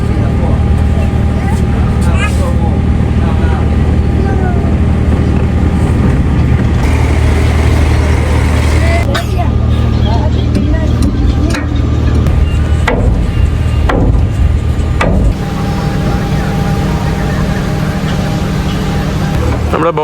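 A river boat's engine drones steadily on the Amazon between Leticia and Iquitos, a loud, continuous low rumble filling the whole stretch while people talk over it.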